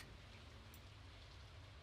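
Rain falling in a farming video game, a faint, steady hiss of drops with no distinct impacts and no voices.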